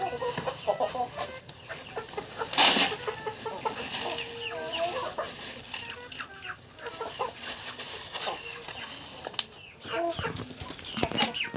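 Chickens cluck and squawk steadily while being fed on a farm, close by, with a sharp loud squawk early on and occasional human calls mixed in.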